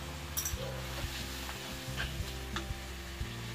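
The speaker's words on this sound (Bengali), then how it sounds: "দিয়ে এটাকে আমরা এখানে একটু ভালোভাবে ভাজা করব।" Mutton and capsicum frying in a pan over a lowered gas flame, with a steady quiet sizzle and a few soft clicks as the pieces are stirred.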